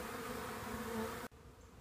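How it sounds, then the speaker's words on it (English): Honey bees swarm around a beekeeper who is handling a hive alone, making a dense, steady buzzing drone close by that cuts off abruptly near the end, leaving near silence. "It's such a cool feeling to have the bees like kind of swarming around you"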